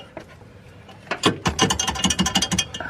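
A ratchet wrench clicks rapidly and loudly up close as it loosens a bolt on a car during a driveway turbo install, the clicking starting softly and then building into a dense run.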